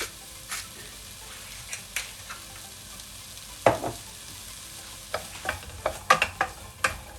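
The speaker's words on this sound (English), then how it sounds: "here we are going to let them cook until the peppers and the onions start to go soft" Peppers and onions frying in a pan, a soft steady sizzle under scattered sharp clicks and scrapes of stirring, close by with no talk.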